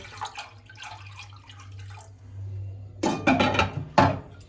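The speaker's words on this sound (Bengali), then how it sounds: "এবার কড়াইতে আমি একটু জল দিয়ে দিচ্ছি" Water poured into a kadai on a gas stove, two short splashing bursts near the end after a low quiet hum.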